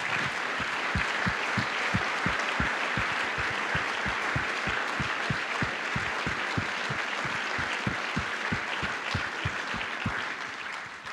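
An audience at the opening night of the 54th Directors' Fortnight applauds in support of Ukrainian filmmakers, with sustained, even clapping and a few sharp claps standing out near the front, moderately loud throughout.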